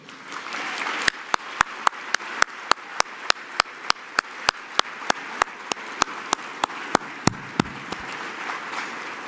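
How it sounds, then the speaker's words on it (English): Audience at an annual awards gala clapping for the presenting partner, a dense continuous wash of applause with sharp, regular claps from one nearby pair of hands cutting through it. "ladies and gentlemen, I need to give you the best clap you can give them"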